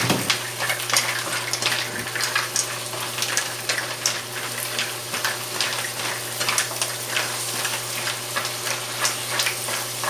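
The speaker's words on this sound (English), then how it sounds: "saka natin ilalagay itong ating mussels or tahong" Mussels sizzling and frying in a pan for sweet and sour mussels with tofu, a steady crackling hiss with light stirring and utensil taps throughout.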